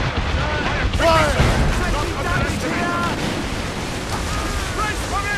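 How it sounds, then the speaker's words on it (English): Ship mortar fire during a naval battle in Assassin's Creed Rogue: heavy booming blasts over constant roaring sea and wind noise, with voices shouting through the din. "Make good use of your own mortars, Shay."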